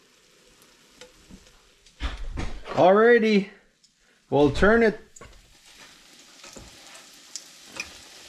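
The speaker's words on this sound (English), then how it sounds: "Sizzling now." French cinnamon toast sizzles in a frying pan as a faint, steady crackle throughout, partly covered by someone speaking in two short bursts.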